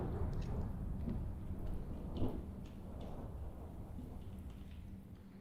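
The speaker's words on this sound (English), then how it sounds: "I noticed it was raining" Steady rain in Minecraft falls under low rolling thunder, with one rumble swelling a little louder partway through, all at a soft, even level.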